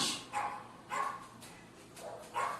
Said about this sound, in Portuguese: Esse cachorro está demais. Esse cachorro está atacado hoje